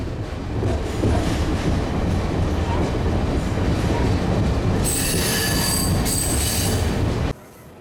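Passenger train on the Kansas City Southern line easing into a siding, a loud continuous rumble of wheels on rail with a piercing flange squeal rising over it near the end before the sound cuts away.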